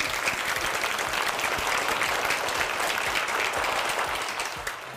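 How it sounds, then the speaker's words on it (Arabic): An audience at a school-prize studio show applauds steadily, a dense wash of clapping that holds for most of the stretch before easing slightly at the end, with no talk over it. "صفقوا لها"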